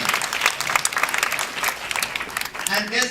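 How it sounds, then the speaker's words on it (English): A film event audience breaks into loud, dense applause for a director, close and sustained for about three seconds. "Give him the robust and thundering applause for the great work that he has been doing"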